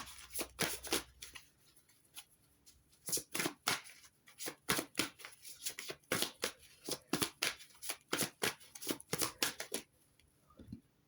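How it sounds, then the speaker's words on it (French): Angel oracle cards are shuffled by hand in quick, crisp bursts of riffling and flicking, close and fairly quiet, running steadily for about eleven seconds with no talk. "je vais prendre une carte des anges de l'amour."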